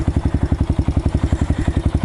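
A 125cc Chinese pit bike engine with a big bore exhaust thumps in a fast, steady rhythm of loud, close pulses with a rough, clattering edge.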